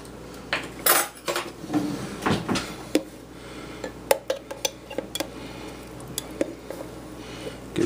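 A spoon scoops floating bits out of a jar of sauerkraut with irregular, close clinks, taps and scrapes against the jar, and no voices are heard.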